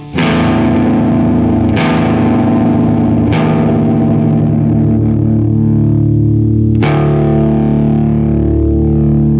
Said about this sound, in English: I'm going to change the tuning of my guitar, and like I said, it's going to sound kind of weird